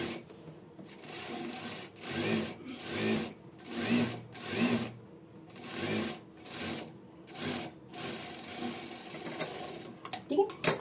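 A sewing machine stitches a princess-cut blouse in about eight short runs, each a few seconds long and separated by brief pauses, a steady close whirring rattle.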